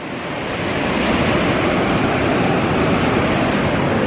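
Ocean surf rolls in as a loud, steady wash of breaking waves where surfers are out, rising over the first second and then holding as a continuous roar, with some wind in the microphone.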